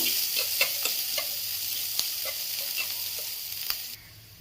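Chopped onion fries in hot oil for a village-style Bengali fish finger recipe, a steady close sizzle broken by repeated scraping stirs, ending abruptly with a drop in level; no speech.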